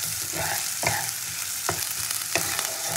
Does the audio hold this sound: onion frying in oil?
yes